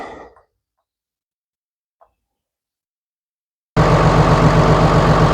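Diesel engine with a freshly resealed Lucas CAV injector pump starts up after a silence and runs steadily, a loud, even mechanical idle with a regular pulsing beat that carries on to the end.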